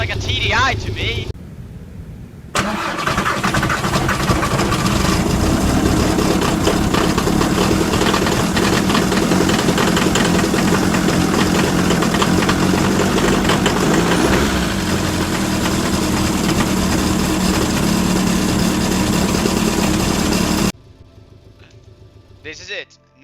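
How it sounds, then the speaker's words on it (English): Porsche engine in the Driving Empire game idles with a loud, steady, dense rumble that runs unbroken for most of the stretch, with brief quieter gaps at the start and end where a voice speaks. "Sounds like a TDI to me."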